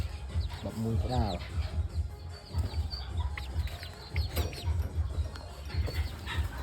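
Roosters and chickens on a rooster farm cluck and squabble nearby, with a short crowing call early on, over a low rumbling background while someone talks throughout.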